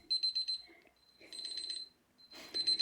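A timer alarm going off in repeated electronic beeping bursts, three groups separated by short pauses, fairly quiet and close, with no talking over it.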